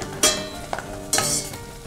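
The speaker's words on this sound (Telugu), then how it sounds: "సో అదంతా కూడా బాగా ఫ్రై అవ్వాలి." Mint and fenugreek leaves frying in oil and ghee for veg biryani, a close sizzle broken by a few sharp stirring scrapes of a utensil against the pan, no voices.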